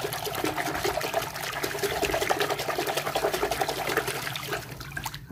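Water splashes and trickles steadily as toy dinosaurs are washed, a continuous close wet rush with small clattering bits throughout.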